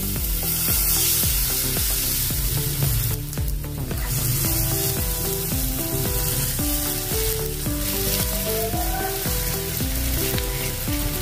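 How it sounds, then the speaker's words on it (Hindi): Wheat flour thalipeeth batter sizzles in a hot pan, a loud, continuous close-up frying hiss that holds steady throughout, with faint scraping as it is spread. "और अपना बैटर इसमें डाल देंगे।"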